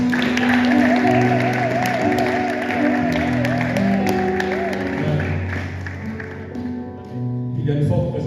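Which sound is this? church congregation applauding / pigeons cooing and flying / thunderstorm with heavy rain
church congregation applauding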